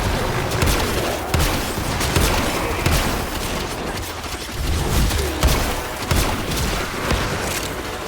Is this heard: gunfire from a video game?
yes